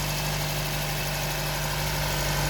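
A Nissan Grand Livina engine idles steadily and smoothly, a continuous close hum with a low, even drone and no voices over it.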